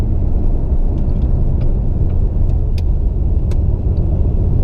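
A 600+ horsepower turbo Camaro engine drones steadily and loudly from inside the cabin during a high-gear highway pull, a constant low rumble with road noise holding level throughout.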